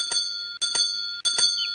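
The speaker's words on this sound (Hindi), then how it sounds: "कौन घंटी बजा रहा है?" A bell rings three times in even succession, each a bright metallic ring-tone burst with a brief pause between, loud and close, like a doorbell at a house door in an animated cartoon.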